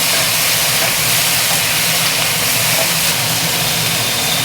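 Cauliflower and potato pieces frying in a pan, just after fish was fried, giving a loud, steady, unbroken hiss that holds at the same level throughout.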